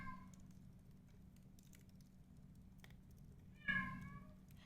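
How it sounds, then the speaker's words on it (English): A pet cat meows in a house hallway, a short call at the start and a louder, longer meow near the end, both faint and distant over a quiet room hum. "He walked out of the room into the hallway and he meows at the end of the hallway."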